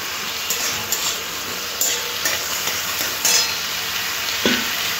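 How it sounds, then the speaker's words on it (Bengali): Vegetables fry with chopped onion and green chillies for a rohu fish curry with ridge gourd, potato and drumstick, a steady hissing sizzle with a few light stirring scrapes and clinks, close up and without speech. "সব ভালোভাবে সবজির সাথে একটু ভেজে নিতে হবে।"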